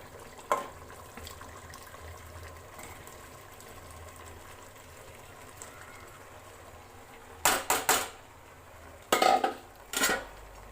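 Rice goes into water in a pot for biryani: quiet background at first, then a cluster of sharp metallic clatters and splashy scrapes from a pan and utensil near the end, close and fairly loud.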